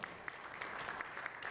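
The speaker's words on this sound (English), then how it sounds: "A huge round of applause, everyone." Quiet, brief burst of audience clapping greeting a chief guest at an award ceremony, an even patter heard from a distance.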